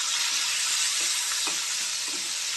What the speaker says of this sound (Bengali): দেখুন চিংড়ি মাছ ভাজা হচ্ছে, ভালো করে ভেজে নেব।